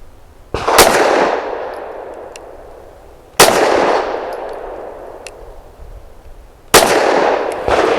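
Three separate gunshots from an S&W M&P Shield Plus pistol crack loudly and sharply at an outdoor range, spaced a few seconds apart, each followed by a long, fading echo.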